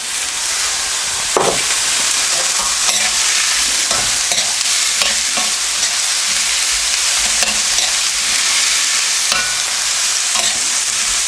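Onion and tomatoes fry in a pan for a pork chilli dish, giving a loud continuous sizzle with frequent clacking and scraping stirs close by, and no talking.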